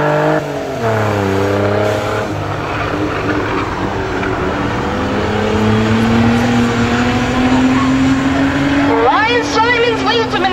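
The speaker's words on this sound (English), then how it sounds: "Ryan Simons leads him in the turn number three" Race cars accelerating on a drag strip at a speedway, a loud sustained engine roar with rising pitch sweeps as the cars pull away, under an announcer's voice over the PA.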